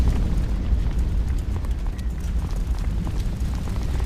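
Lava and fire ambience in World of Warcraft: Mists of Pandaria, a dense, continuous roaring rumble with a crackling hiss on top, loud and steady throughout, with no voices.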